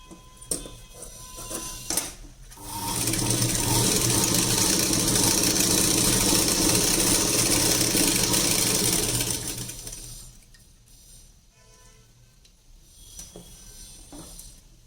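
A sewing machine stitches a lined blouse, a steady fast whirring hum running for about seven seconds after brief handling clicks, then dropping to quieter fabric handling and a short, softer burst of stitching.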